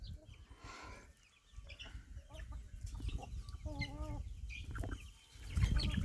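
Several crossbreed hens cluck and murmur close by while feeding in a coop, with occasional louder calls over a low, rustling background.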